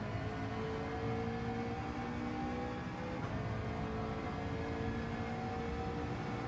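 A McLaren race car engine in Gran Turismo 7 drones at a steady pitch, a constant sustained whine and hum with no breaks or shifts.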